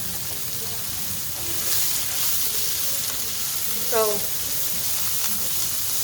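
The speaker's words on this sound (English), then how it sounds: "Certain things I saute, like the tomatoes, onions." Tomatoes and onions sauté in a pan for caldo de albóndigas, giving a steady soft sizzle and frying hiss throughout, with a brief stir near the end.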